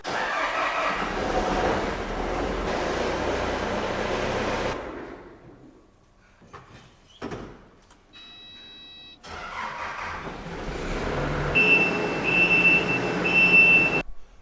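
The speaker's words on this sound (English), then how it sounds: "let's move these skid steers" Skid steer loaders being moved around a shop, with a loud broadband engine rumble that fades out, a few clunks in near silence, then the machine roaring back with a high pulsing whine and beeps.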